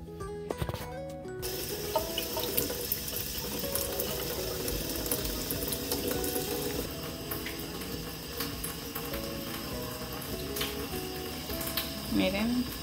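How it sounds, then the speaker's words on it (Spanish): Popsicle molds filled with banana and Nutella are set into warm water in a kitchen, with steady splashing and running water throughout and a few clinks near the end. "ahora las voy a poner en agua tibia para sacarlas."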